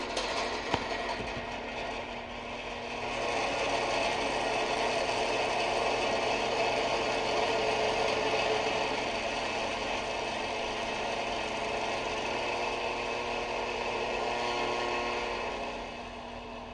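A 1960s or 70s electric heater switched to its high setting runs with a steady mechanical whir and hum, a faint ticking rising into a constant loud drone that holds until it eases near the end.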